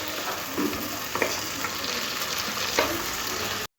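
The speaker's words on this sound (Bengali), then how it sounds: "আদা রসুনটাও খুব ভালো করে টমেটো আর পেঁয়াজের সাথে একটু কষে নিতে হবে" Tomato, onion and ginger-garlic paste fry in a pan with a steady close sizzle, broken by a few scraping stirs of a spoon, with no talking.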